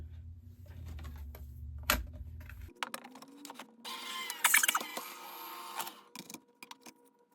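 Die cutting machine feeding paper through for a card craft, a series of close mechanical clicks, rattles and grinding rolls that start and stop unevenly.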